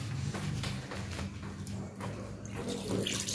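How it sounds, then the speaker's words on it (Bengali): Water runs steadily from a tap during handwashing, a continuous close splashing stream into a sink with no voices. "চলো হাতটা ধুয়ে আসি, হাতটা ধুয়ে এসে তারপর খাবো।"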